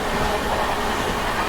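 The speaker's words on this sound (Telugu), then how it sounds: "ఈ ట్రైన్ 3rd లైన్లో ట్రావెల్ చేస్తుంది" A passenger express train runs steadily on the rails between Vijayawada and Chennai, a continuous close rumble and rattle with no clear single clicks and no voices.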